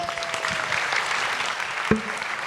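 A talk-show studio audience breaks into warm, steady applause that stays even throughout, with a single sharp knock near the end.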